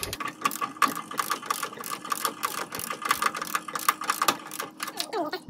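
Ratchet tightening a bolt on a Scorpio tie member, a quick run of close, crisp clicks in repeated bursts, with brief pauses between strokes.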